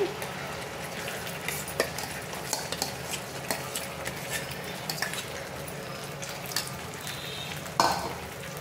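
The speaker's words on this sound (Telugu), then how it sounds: "ఇలా మొత్తం కలిసేలా బాగా కలుపుకోవాలండి" A semolina and milk mixture is stirred in a pan for a quick no-bake cake, with soft sizzling under repeated clicks and scrapes of a spoon against the pan.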